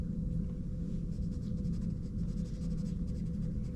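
A pencil, worked on its side, shades dark shapes on paper with a soft, continuous scratchy rasp of repeated strokes, close and steady, over a low room rumble with no talk.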